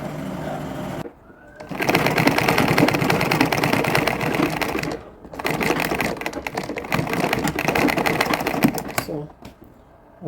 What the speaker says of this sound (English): I'm sewing down the other part of it, the other end of the side